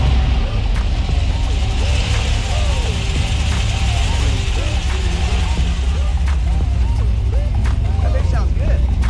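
A 1965 Pontiac Tempest with an LS swap, 4-inch exhaust and muffler runs with a steady, moderately loud low engine rumble throughout, while several people talk over it nearby.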